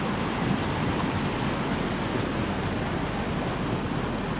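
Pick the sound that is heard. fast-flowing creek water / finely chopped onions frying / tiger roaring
fast-flowing creek water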